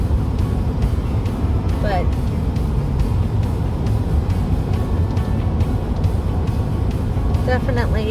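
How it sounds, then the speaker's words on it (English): Multi-lane highway traffic in San Diego rolls past in a steady broadband roar of tires and engines, with a few faint squeaks and a person talking over the road noise. "It goes from 6 lanes of traffic to 4,"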